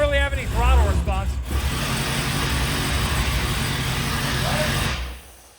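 A manual-swapped Dodge Demon's engine runs loudly with a steady, dense roar, voices talking over it at the start, before it cuts off near the end.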